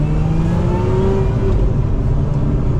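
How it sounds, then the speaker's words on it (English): A 2024 Lotus Emira Touring First Edition sports car with a supercharged six-cylinder engine pulling away, a loud steady engine drone with a rising tone heard from inside the cabin. "setting off now in the Lotus Emira"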